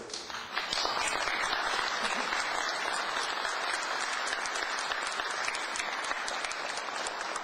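Steady, dense applause from an audience at a luncheon meeting with small and venture business leaders, loud and sustained throughout with no pauses.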